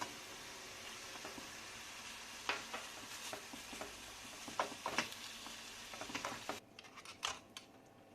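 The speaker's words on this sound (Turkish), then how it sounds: "Sıcak su ilave ediyorum." Hot water poured into a sizzling pan of karnıyarık with tomato paste, a soft hiss under scattered scrapes and utensil clicks, close and quiet, the sizzle dropping away near the end; no talking.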